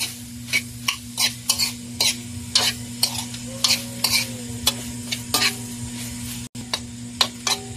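Seasoning being stirred into food frying in a pan, with a steady sizzle underneath repeated scraping strokes of a utensil, close and fairly loud, with no talking.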